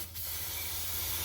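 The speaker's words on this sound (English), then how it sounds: "Quick spray degreaser, should sort her out." A steady hiss of an aerosol spray of degreaser on a Ford Territory's oil filter area, continuous and close, starting after a brief pause.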